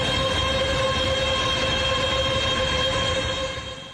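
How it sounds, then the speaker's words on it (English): Data center in Texas giving off a constant droning hum with steady whining tones over a low rumble, even and unbroken for the whole stretch before easing slightly at the end. "This is the sound of an actual data center in Texas, a constant hum that becomes unbearable."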